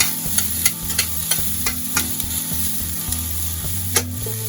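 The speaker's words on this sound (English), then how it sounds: "Oh, listen to that sizzle." Peppers and onions fry in coconut oil in a pan, giving a steady close sizzle with occasional clicks and scrapes from stirring.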